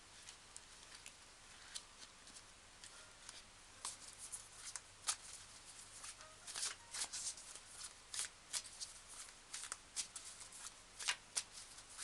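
Tarot cards being shuffled, quiet soft riffles and snappy card flicks in irregular bursts over a hushed background, no talking.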